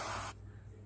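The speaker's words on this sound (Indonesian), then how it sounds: "kita semprot pakai brake cleaner" Brake cleaner sprayed onto the disc brake of a 2012 Toyota Rush, a loud, steady aerosol hiss lasting about a third of a second before cutting off to quiet workshop background.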